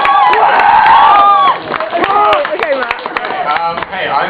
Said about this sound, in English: a big round of applause for Tom!